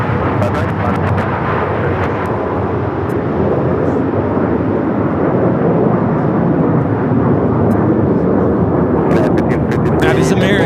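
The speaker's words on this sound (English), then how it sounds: "That is American Airlines 1933 taking off to Phoenix on the 737-800" An American Airlines Boeing 737-800 takes off from LAX bound for Phoenix, a loud, sustained broadband jet roar that stays heavy throughout, with voices or radio chatter over it.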